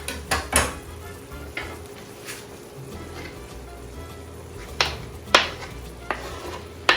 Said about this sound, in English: adding the vegetables that we have already cut up so they can start cooking